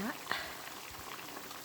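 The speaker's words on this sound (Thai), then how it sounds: "คุณย่าก็เคี่ยวมาประมาณสักยี่สิบนาทีแล้วนะคะ หมูเขาก็เริ่มจะเปื่อยแล้วก็ขนุนนี่ต้องใช้เวลานะคะในการเคี่ยว" Young jackfruit and pork belly curry simmering in a pot, a soft, steady bubbling near the mic, with one brief clink early on.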